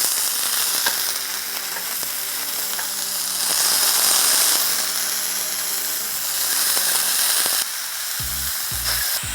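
Scallops searing in a hot pan, a loud, continuous sizzle and crackle that keeps going for several seconds, with a few dull knocks near the end.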